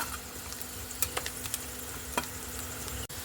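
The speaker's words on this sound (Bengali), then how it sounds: "রসুন কুচি আর লঙ্কা কুচি এইগুলোকে একটু ভাজ ভেজে নিচ্ছি" Minced garlic, ginger and green chili frying in a pan, a steady soft sizzle with a few light clicks of stirring, close and fairly quiet, no voices.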